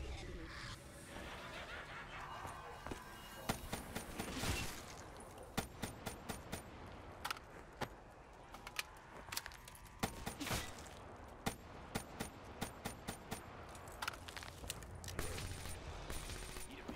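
Machine gun fire in Black Ops 3 arrives as sharp repeated bursts and single cracks scattered through a long stretch, with a voice talking in between.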